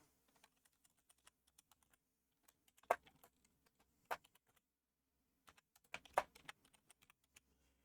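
Quiet, sparse clicking of fingers on a computer keyboard, with scattered keystrokes and a few louder bursts of rapid typing in a still room.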